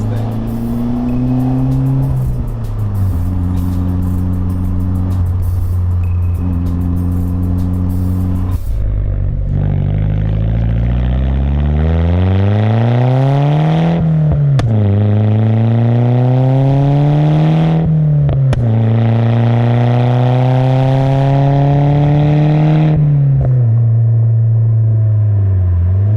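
A Pulsar project car engine revs hard and then pulls away, its tone climbing and falling through several gear changes, loud and close with no voices over it.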